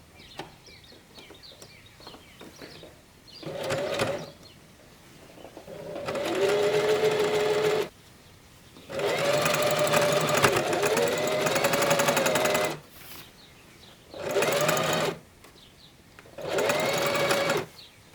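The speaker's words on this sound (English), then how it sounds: "Sew the beginning of the elastic band to secure it, then sew around, pulling the band as you go." A sewing machine stitching an elastic band onto climbing pants, running in several bursts of steady whirring, some short and some several seconds long, with pauses between, close and clear.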